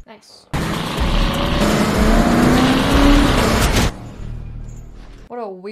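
Cars in a movie scene from SAW: a loud engine surge with rising revs and a passing rush, lasting several seconds, then cutting off abruptly, with brief voices before and after.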